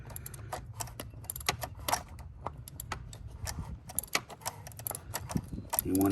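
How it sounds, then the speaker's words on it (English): Socket and ratchet tightening the oil drain plug on a 2012 Chevy Cruze, giving quick irregular clicking and metallic ticks up close, fairly faint over low background noise. "I just put my socket and ratchet back on, and we're going to start tightening this now."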